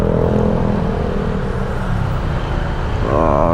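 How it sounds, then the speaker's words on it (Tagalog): Steady road traffic rumbles on a street in Cavite, Philippines, a continuous broadband roar of engines with a vehicle's whine rising near the end. "It's traffic again."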